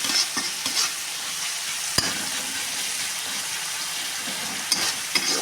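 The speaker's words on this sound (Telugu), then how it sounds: "టమాటాలు, ఉల్లిపాయలు బాగా ఫ్రై అవుతున్నాయి." Tomatoes and onions frying in a pan for a potato and cauliflower curry, a steady soft sizzle broken by a few clinks and scrapes of stirring, heard close and alone.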